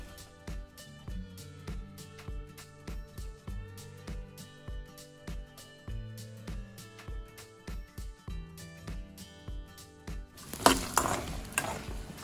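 Dried red chillies and garlic fry in a pan, mostly buried under steady rhythmic background music until a loud, crackling sizzle bursts out over the last second or two.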